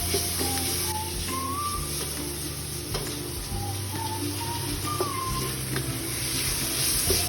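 Sliced onions sizzle steadily in a hot pan with salt while being cooked down for a chicken curry, a continuous close frying hiss with faint higher whistling tones drifting through it.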